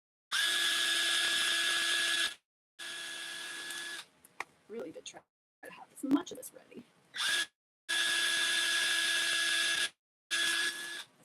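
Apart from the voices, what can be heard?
power drill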